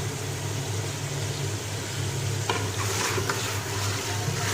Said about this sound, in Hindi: 2 से 3 मिनट के लिए हम इसको भून लेंगे